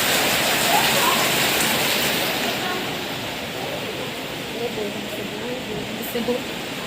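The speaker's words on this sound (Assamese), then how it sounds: "কিমান বৰষুণ আমাৰ ইয়াত" Rain falls steadily in a thick, constant patter, easing slightly partway through, with faint voices underneath.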